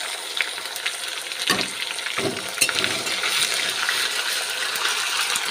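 Tomato and spices fry in a pan with a continuous close sizzle, broken by a few stirring scrapes and knocks, with no talk.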